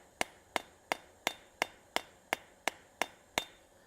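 Ten sharp metallic hammer strikes on steel over an anvil ring out at a steady, even pace, each with a brief ringing decay, close and clear with no talking.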